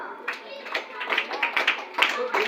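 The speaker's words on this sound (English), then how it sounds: "Clap for her." A classroom group claps for a student at a lesson about germs, a short patter of hand claps mixed with children's voices talking over it.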